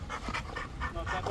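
A dog pants rapidly and rhythmically up close, a quick run of breathy puffs, with faint background sound.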